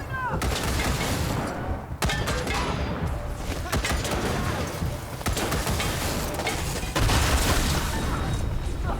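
Gunfire in the post-apocalyptic video game Wasteland 3: a dense, continuous barrage of shots and booms filling the whole stretch, with voices calling out over the combat.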